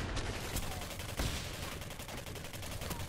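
Gunfire in the Singularity video game, quiet and distant-sounding, as a dense crackling fusillade with a few sharper individual shots standing out over constant background noise.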